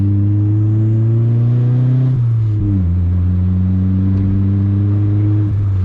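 A turbocharged Honda Civic D16Y7 engine drones loudly and steadily, its pitch rising then dropping sharply before settling back into a sustained hum.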